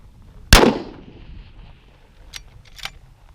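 A single sharp sniper rifle shot rings out at a long-range shooting competition at Issyk-Kul, firing at a 1500-meter target. The loud crack decays quickly into quiet outdoor ambience, with a couple of faint distant clicks after it.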